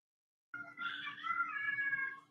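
A pet cat meows in a long, drawn-out wavering call, close and fairly clear, starting after a brief silence with faint low background hum underneath.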